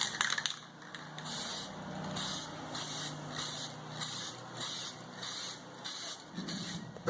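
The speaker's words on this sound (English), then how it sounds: "we're going to spray paint all the hardware as well" An aerosol spray paint can hisses in a series of short bursts on the hardware of a WEN 2350-watt inverter generator, fairly steady and close, with faint clatter in the background.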